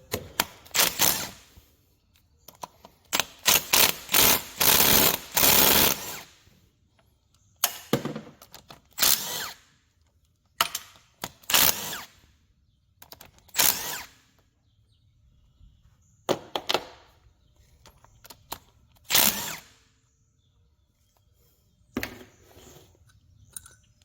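Power tools at work taking the head off a scrambler motorcycle engine: loud, close bursts of whirring rattle, several in quick succession, then more spaced bursts with quiet gaps between them.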